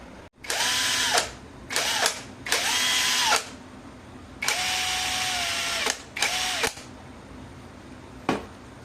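An electric impact wrench runs in a series of loud, separate bursts of varied length, revving up and cutting off, with a short final burst after a pause, close to the microphone.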